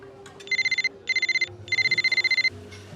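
An electronic telephone rings in three quick trilling bursts, close and clear, with faint background sound between them.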